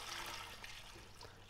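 Water running steadily into a large pot for cooking a crispy farmhouse duck, a soft continuous splashing and trickling that stays fairly quiet throughout.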